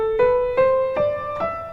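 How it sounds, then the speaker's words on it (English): A minor scale played from A on a synthesized or keyboard-like tone, four clear single notes stepping upward at a steady, even pace, each with a soft attack and sustained harmonics, played alone. "So it sounds a little bit sadder, which is why it's a minor scale."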